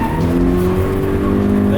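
A 2017 Toyota 86 slides on a racetrack with a steady, loud tire squeal over the engine drone, sustained and close for the whole stretch.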